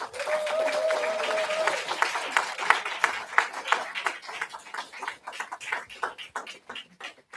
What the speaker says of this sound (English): Let's just give you a round of applause